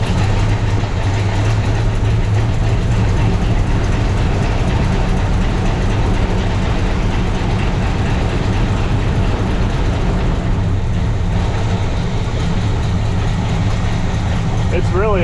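A 1970 Pontiac Grand Prix engine running steadily with its fuel pump working, a loud continuous droning rumble throughout with a faint click near the end.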